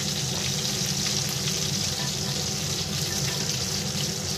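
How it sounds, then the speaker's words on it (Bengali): Hilsa fish frying in hot oil in a pan, a steady loud sizzle and bubbling hiss throughout, with a watery, splashy texture and no talk. "মাছটা ভাজা হয়ে গেছে। এবার আমি একটা একটা করে মাছ উঠিয়ে নেব।"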